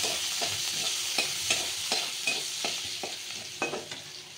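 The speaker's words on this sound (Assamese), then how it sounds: "এতিয়া পিঁয়াজখিনিও ভাজি লৈছোঁ" Onions sizzle and crackle in hot oil, with scraping stirring noises and occasional sharper pops over a continuous frying hiss.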